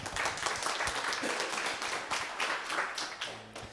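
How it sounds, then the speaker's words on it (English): A crowd applauding, a dense patter of many hands clapping steadily for a few seconds before it thins out. "Let's give them a round of applause to start."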